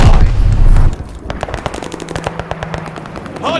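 Rapid bursts of video game gunfire crackle near and loud at a contested hard point, with dense automatic fire at the start giving way to scattered, rhythmic shots.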